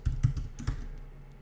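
Quick keystrokes on a computer keyboard while entering code in a Jupyter notebook, a handful of close, soft clicks with no voices.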